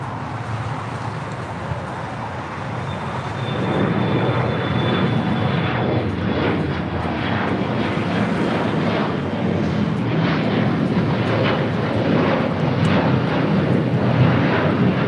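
A SkyWest-operated Embraer E175 regional jet takes off from LAX runway 25 right, its engine roar swelling after a few seconds into a loud, steady rumble with a thin whine on top that holds to the end.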